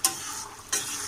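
A spoon scrapes through fish belly pieces and bitter gourd in a pan with the cooking water mostly reduced, making two quick stirring strokes with a soft sizzle between them, close and clear.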